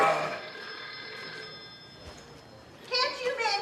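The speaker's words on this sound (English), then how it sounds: "Can't you men hear that phone ringing in here?" A telephone bell rings in a house, its tone layered under voices as people talk over it, fairly close and moderately loud.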